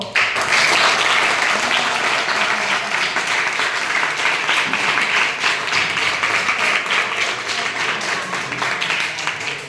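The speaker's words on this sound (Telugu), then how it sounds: "మరొకసారి సార్ గారికి పిల్లలు చప్పట్లతో" Sustained applause from a crowd of schoolchildren, many hands clapping together, steady and lively throughout, with no voices standing out.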